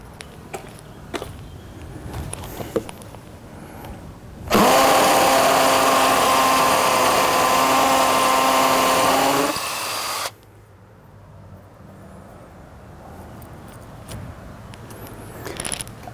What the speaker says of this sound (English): So we'll pan round to the wall and drill a hole.